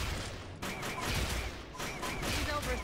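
Gunfire from soldiers engaging an enemy in the strategy video game UFO: Afterlight, a dense stream of shots with tonal weapon chirps running throughout, loud and steady in the game mix.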